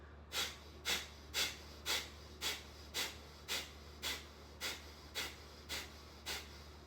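Forceful nasal breathing exercise: about twelve sharp, evenly spaced bursts of air pushed through the nose, roughly two per second, close and distinct over a low background hum.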